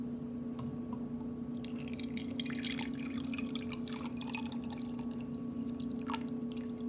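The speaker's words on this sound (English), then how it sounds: "I'm going to pour vinegar in the beaker until it just covers the egg." Regular vinegar is poured into a lab beaker over an egg during a diffusion and osmosis experiment, giving a steady splashing trickle over a constant low hum, with no talking.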